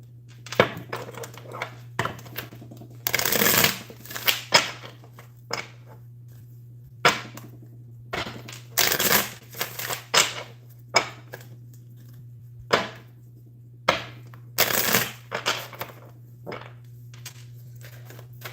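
Tarot cards being shuffled during a live zodiac forecast reading, heard as repeated brisk riffling bursts and soft slaps over a steady low hum, close and fairly loud with no talking.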